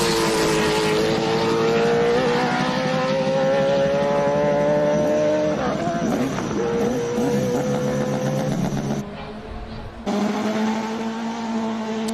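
A high-pitched race car engine revving to 11,000 RPM at a hillclimb event screams loudly at high revs, its pitch wavering and briefly dropping before roaring back up.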